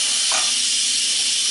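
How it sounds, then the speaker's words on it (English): Steam vents from an Instant Pot pressure cooker after cooking, a loud, continuous rushing hiss that holds steady throughout. "Instant Pot has beeped, which tells me it's time to vent it."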